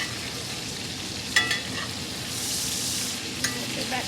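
A steak sizzles in a cast-iron pan while garlic butter is basted over it, making a soft, continuous frying hiss with a few sharp spoon clinks and spattering bursts.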